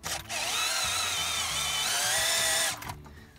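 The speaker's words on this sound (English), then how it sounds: "if we turn the drill on" A cordless drill whirs steadily for about two and a half seconds, spinning a car engine's crankshaft through the harmonic balancer so the pistons move up and down, with a brief start and stop at either end.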